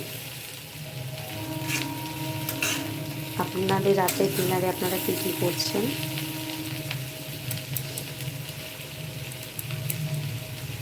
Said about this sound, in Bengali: আলু আর পেঁয়াজ কলি ভাজছি